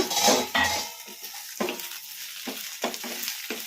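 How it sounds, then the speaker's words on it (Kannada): Fried brinjal (eggplant) in a pan being uncovered and mixed for a curd raita: a loud clatter as the lid comes off, then several short scraping and stirring knocks of a spoon against the pan, with no talk. "ಈಗ ಮುಚ್ಚಳ ತೆಗೆದು ನೋಡೋಣ ಕಲಿಸ್ಕೊಂಬಿಡೋಣ"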